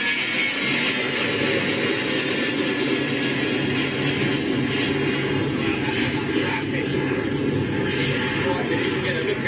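A Boeing 757 jet heads out, a steady broad roar that holds level the whole time, sounding fairly distant and continuous, without talk.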